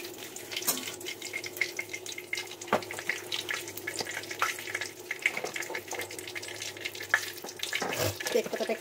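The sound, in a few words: bay leaf frying in oil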